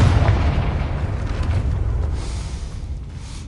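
A Confringo spell explosion in the video game Hogwarts Legacy: a loud, deep, rumbling blast that slowly fades over a few seconds, with no talking.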